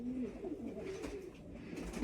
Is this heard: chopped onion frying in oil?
no